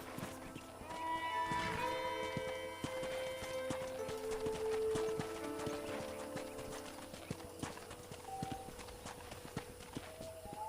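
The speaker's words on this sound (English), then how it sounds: "Nice casual horse ride." Steady, even clip-clop of horse hooves on a casual ride in Red Dead Redemption, continuous and fairly close, with game music tones and no talking.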